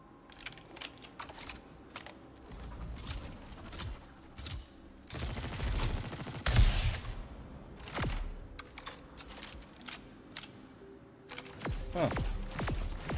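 Star Citizen gunfire: bursts of sharp shots and rapid clatter scattered through the clip, mixed with keyboard-like clicking and a heavier impact in the middle, moderately loud with uneven spacing.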